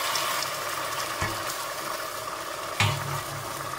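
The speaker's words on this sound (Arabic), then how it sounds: "بعدها اضيف لهم من هذه المرق الحمص اللي سويت سلقت بيه اللحم والحمص" Meat and chickpeas stirred with broth in a pot over a fire for Iraqi chickpea qeema, giving a steady close sizzle and simmer broken by two brief scraping knocks of the spoon against the pot.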